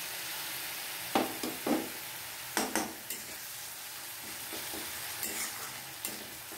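Grated onion frying in oil with dried chili, bay leaf and cumin, a soft continuous sizzle broken by several sharp stirring scrapes and clinks of a utensil against the pan.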